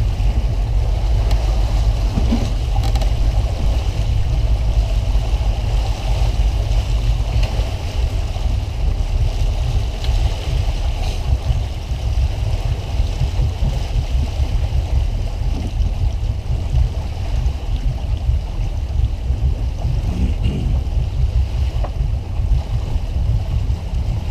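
A boat motors in to dock alongside another boat's port side, a constant low engine rumble with wind and water wash, loud and close, steady throughout with no talk.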